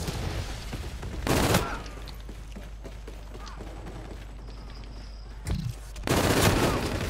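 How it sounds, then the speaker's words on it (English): Futuristic gunfire from Call of Duty: Infinite Warfare sounds in a few loud, close bursts separated by a steady hum of background battle noise. "I shot him first."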